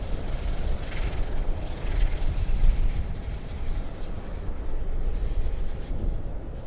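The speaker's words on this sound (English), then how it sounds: "We've just had a QANTAS 787 heading off to Texas" A Qantas Boeing 787 departs Sydney Airport at golden hour, a distant, steady low jet rumble that holds at a moderate level throughout.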